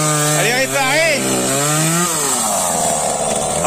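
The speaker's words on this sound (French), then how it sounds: "ma tronçonneuse à remarche. Elle est réparée." A just-repaired chainsaw engine running steadily and loudly nearby, its pitch rising and falling as the throttle revs, with a voice faintly underneath.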